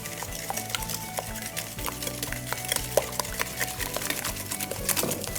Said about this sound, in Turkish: Güzelce çırpıyoruz.